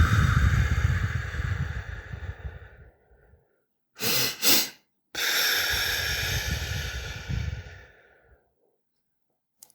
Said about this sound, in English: Double inhale and then long exhale.